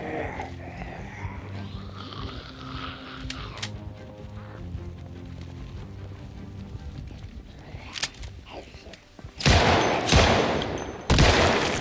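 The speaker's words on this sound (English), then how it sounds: "Shotguns are noisy as hell." Shotgun fire in a zombie survival video game set in a prison, a few loud blasts near the end after a stretch of busier game sounds and clatter.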